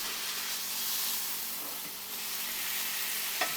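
Ground beef sausage frying in a pan, a steady soft sizzle held at low level throughout, with a faint tap of the pan or utensil near the end.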